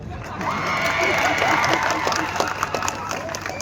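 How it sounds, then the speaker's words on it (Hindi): A rally crowd applauds and cheers for a minister, producing a brief, loud wash of clapping and shouting voices close by that eases slightly toward the end. "जोरदार तालियां बजाओ मंत्री के लिए।"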